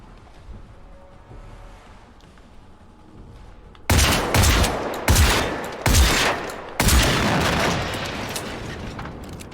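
Shotgun blasts in the video game Generation Zero ring out as four heavy, booming shots spaced about a second apart after a quiet opening, each with a loud crack and a lingering tail.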